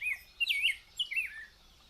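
A Rose-breasted Grosbeak along Beargrass Creek gives a short, clear, sweet warbled phrase of a few rising and falling notes, close and distinct against a quiet background.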